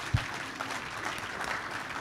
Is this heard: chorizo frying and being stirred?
no